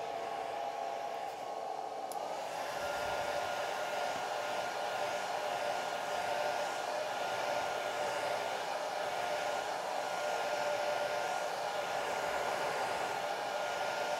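Steady, loud hair dryer blowing continuously to dry a damp watercolor painting, a constant broadband whoosh with no talk.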